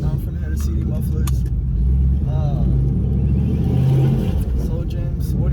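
Inside a Ford Mustang, the engine and exhaust drone loudly and continuously with a deep low rumble that swells slightly, as voices talk over it in the cabin.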